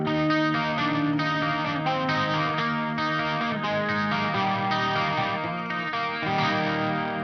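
A Marshall JCM800 2203ZW Zakk Wylde signature amp pushes a guitar into thick, saturated distortion, sustained chords ringing continuously and loudly without any voice.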